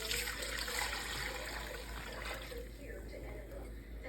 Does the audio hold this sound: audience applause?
no